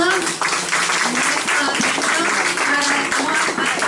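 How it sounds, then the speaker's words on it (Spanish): An audience applauds at a church talk, with brisk clapping filling the room for a few seconds over a murmur of voices. "Así que un aplauso para todos."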